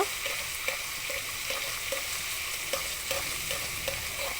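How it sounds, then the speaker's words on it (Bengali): Chicken fried rice stirred and fried in a pan, restaurant style, with a steady close sizzle and repeated soft scrapes of the utensil at a regular rhythm, no talking. "আমি একটু নেড়ে নেব"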